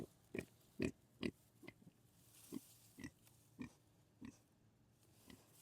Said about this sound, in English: Oh, you pigs are not getting garlic.